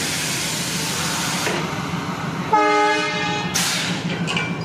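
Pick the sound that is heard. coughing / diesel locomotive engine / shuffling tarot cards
diesel locomotive engine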